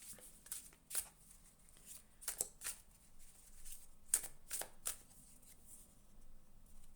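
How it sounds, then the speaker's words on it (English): A deck of dream cards being shuffled by hand, bursts of crisp riffling and soft slaps in uneven clusters, close and fairly quiet with short pauses between. "Let's pull a dream card to wrap it up."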